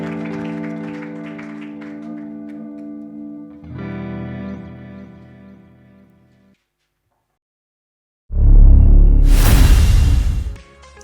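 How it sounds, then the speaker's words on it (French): At a rap talk show, a crowd applauds the accompanist Ben: music plays, then a short silence, then a sudden loud burst of clapping lasting about two seconds before fading. "Est-ce qu'on peut applaudir pour Ben qui m'a accompagné?"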